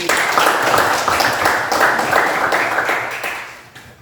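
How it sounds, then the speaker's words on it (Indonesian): Students in a classroom applaud a presenting group, with dense, loud clapping that holds steady and then fades out toward the end. "Kita berikan aplaus untuk kelompok 1."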